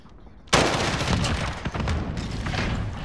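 A sudden burst of shotgun fire in Call of Duty: Modern Warfare erupts after a brief quiet moment and keeps going as a dense, loud volley of blasts.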